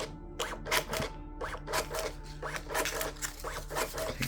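An iDPRT SP900 thermal receipt printer prints and makes a partial cut, a close, rhythmic run of short raspy feed bursts repeating about twice per second.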